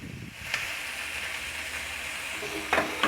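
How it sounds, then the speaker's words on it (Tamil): Green chillies, curry leaves and tomato sauté with prawns in a hot pan, giving a steady close-up sizzle that runs throughout, with a couple of sharp scraping stirs from a spoon against the pan. "நல்லா வதக்குங்க."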